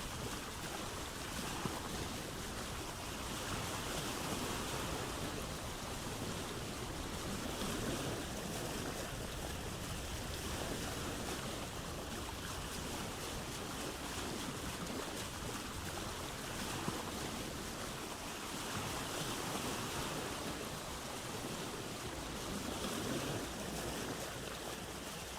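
A sailing boat crossing open ocean waves in Vintage Story, a steady broad wash of water and wind rushing on without a break, loud and close, with no voices.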